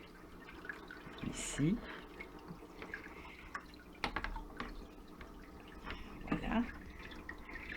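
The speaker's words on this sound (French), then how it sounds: "je vais y mettre de l'eau originaire de l'aquarium" Aquarium water poured into a shallow dish, with soft dripping and trickling splashes under a nearby voice that speaks briefly.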